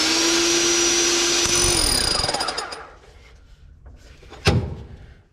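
Hammer drill boring into a house wall for a water service line install, a loud steady hammering grind that winds down after about two seconds, then a quieter pause and one sharp knock.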